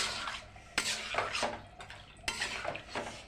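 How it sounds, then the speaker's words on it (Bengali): A utensil stirs drumstick curry with fried lentil dumplings in a pan, giving repeated scraping and clinking strokes against the metal, close and moderately loud, with a soft simmer underneath. "এবার আমি এটা নেড়ে চেড়ে একটু মিশিয়ে দেবো।"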